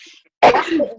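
A single sharp, explosive sneeze bursts out suddenly after a brief quiet moment, close and loud, then trails off.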